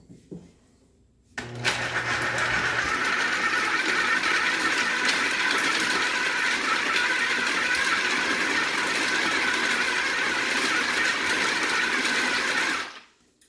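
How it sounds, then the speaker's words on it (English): A food processor starts up and runs steadily on low speed, blending a pumpkin energy ball mixture with a constant loud whirring drone that cuts off abruptly at the end. "So we're just going to put this in the food processor on low and just let that mix together."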